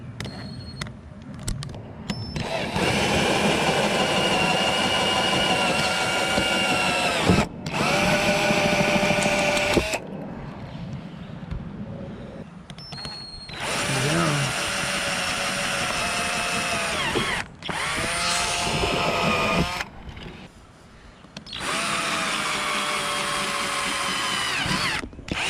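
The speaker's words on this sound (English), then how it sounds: "I'm going to drill the other holes with the mount in, so I know it will be straight." A power drill bores holes through a 2019 Nitro Z18 bass boat for a Humminbird Helix 10 mount, in repeated loud whining bursts of several seconds each, separated by short pauses.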